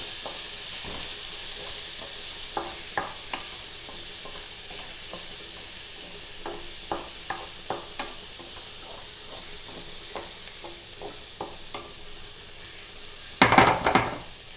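Cabbage thoran with a ground paste of onion, cumin, green chilli and turmeric is stirred in a frying pan, soft repeated scrapes and light taps over a low sizzle, ending with a louder clatter of the utensil.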